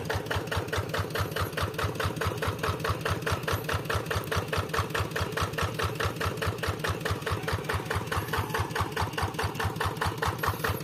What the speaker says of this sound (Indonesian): Mesinnya merek Kubota RD85.